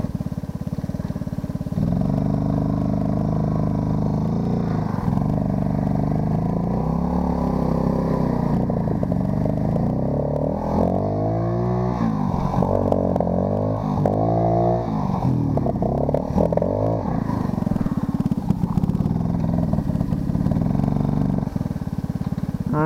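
A small engine, likely a motorcycle, struggles and bogs in second gear under low throttle, a steady loud drone with uneven surging and sputtering throughout, close and with no talking.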